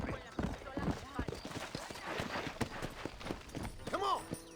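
A horse in the Western video game Red Dead Redemption clip-clops along with quick, light hoof beats and a brief whinny near the end, all heard faintly beneath someone talking.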